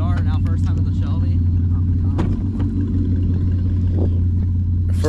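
A Ford Shelby GT500 engine pulls hard, heard from inside the cabin as a loud, steady, deep rumble that never lets up. Excited voices talk over it throughout.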